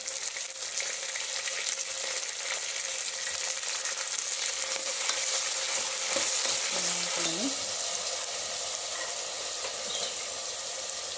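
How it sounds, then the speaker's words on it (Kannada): Green peas fry in oil in a pan and are stirred: a continuous close sizzle runs throughout, with clacking and scraping stir strokes near the middle and no voices. "ಬಟಾಣಿನ ಫ್ರೈ ಮಾಡ್ಕೊಳ್ಳಿ. 1 ನಿಮಿಷ ಹೀಗೆ ಹಾಕಿದ್ರೆ ಎಣ್ಣೆಲಿ ಚೆನ್ನಾಗಿ ಫ್ರೈ ಆಗೋಗುತ್ತೆ."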